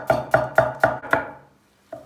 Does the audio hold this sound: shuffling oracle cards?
no